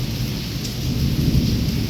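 Thunderstorm over Wankaner, India, with incessant lightning and heavy monsoon rain: a loud, unbroken wash of rainfall over a low thunderous rumble, steady throughout, no one talking.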